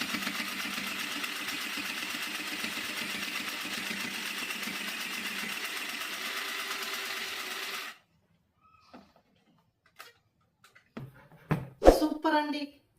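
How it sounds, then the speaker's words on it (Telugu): Mini sewing machine running steadily as it stitches through sixteen layers of fabric: a continuous whirring, buzzing drone for about eight seconds, then stopping, followed by a few scattered clicks and handling knocks near the end. "సో దాని మీద కూడా నేను స్టిచ్ వేస్తున్నాను"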